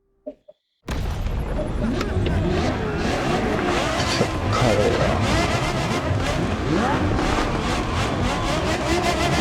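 A Porsche Carrera GT roars to life in The Crew Motorfest racing game after a short quiet start, its engine loud and continuous with tire noise, and a voice talking over it.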